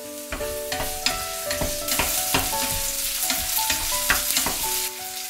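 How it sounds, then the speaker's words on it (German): Spring onions and garlic sizzle steadily in a hot pan while being stir-fried, with repeated scraping and clattering over a continuous frying hiss. "Lauchzwiebeln und Knoblauch dazugeben, kurz braten."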